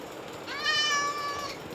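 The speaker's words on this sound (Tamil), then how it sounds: "என்னடா பூனை கத்தினே இருக்கு" A cat in the Minecraft video game gives one drawn-out meow, fairly faint, over a quiet background hiss of game ambience.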